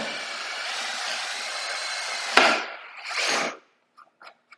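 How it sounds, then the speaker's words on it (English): A drill with a brad point bit whirs steadily through wood, then a sharp crack as it breaks through, a short burst of further grinding, and a few small knocks before silence. "I will use this brad point drill bit."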